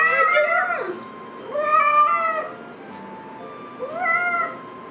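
A cat meows repeatedly, three drawn-out, fairly loud calls separated by short pauses, heard close up with no talking.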